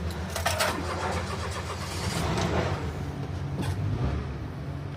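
A turbo-swapped Kia car cranks and its engine catches, settling into a steady, close idle that fills the whole stretch.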